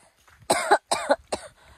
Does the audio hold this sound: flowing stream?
no